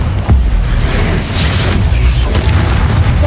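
The Confringo fire spell from Hogwarts Legacy bursting into an explosion, a loud, dense boom with rumbling low end and crackling debris sustained through the moment of combat.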